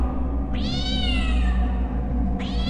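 A cat lets out two loud, close meows, a long rising-and-falling call followed by the start of another, over a low steady background hum.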